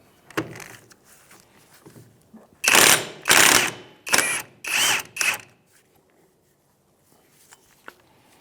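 An impact wrench with a 32 mm socket removes the rear axle nut on a 2003-2011 Honda Element, firing four loud rattling bursts of about a second each, with quieter clicks and handling noises before and after.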